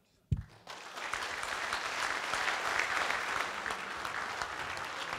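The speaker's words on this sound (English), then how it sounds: "can we please have a huge round of applause" An awards-ceremony audience at St Paul's College breaks into applause after a sharp thump, building quickly into broad, sustained clapping from a sizeable room, with faint talk underneath.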